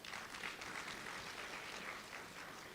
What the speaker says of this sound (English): you can give yourselves a warm hand of applause